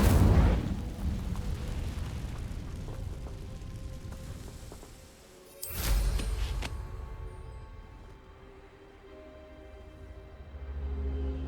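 The Incendio fire spell is cast in the video game Hogwarts Legacy, a loud rushing burst of flame that fades into a low rumble, followed by a second fiery whoosh midway and lingering crackle.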